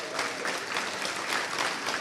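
An audience at the WFCP-CCCJ World Congress 2024 awards claps continuously for a third-place college staff award recipient, a dense, even wash of applause throughout.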